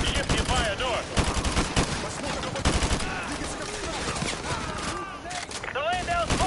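Dense, continuous gunfire in the video game Modern Warfare 2 Remastered: rapid rifle bursts and shots overlap throughout a chaotic firefight, with voices calling out over the shooting.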